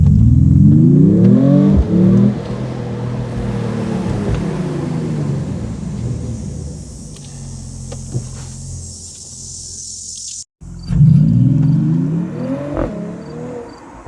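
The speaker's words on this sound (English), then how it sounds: "The straight 6 engine, you can actually hear it, and in Sport Plus it's much louder than in all the other modes" A 2025 Mercedes E53 AMG plug-in hybrid's straight-six engine launches in Sport Plus mode, loud rising revs climbing through gear changes, dropping away to a lower drone, then surging hard again after a brief cut.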